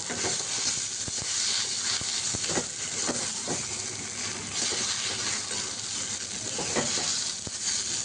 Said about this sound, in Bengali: এবার আমি ভেজে রাখা চিংড়ি মাছটা এতে মিশিয়ে দেবো।